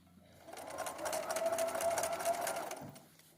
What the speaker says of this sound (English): And as I sew, I want to watch to make sure I don't get any pleats.